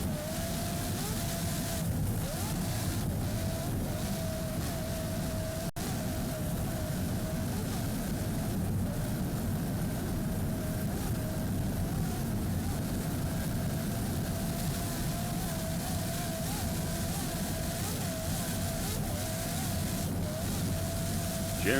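A racing powerboat engine roars steadily off Miami Beach, a loud, sustained drone that holds without a break and never fades out.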